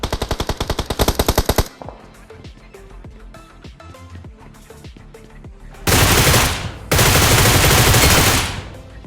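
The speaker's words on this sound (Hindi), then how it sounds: "वहाँ पे बहुत दबा के गोली चल रही होती है" Rapid bursts of BGMI (PUBG Mobile) gunfire, a fast automatic volley up front, then scattered shots and two loud sustained blasts of continuous firing.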